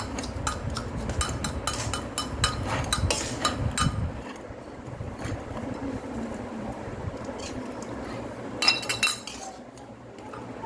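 Mashed boiled potato is stirred together with spice filling for aloo chop, a spoon clinking and scraping against the bowl in bursts, with a quieter stretch between and faint background hum.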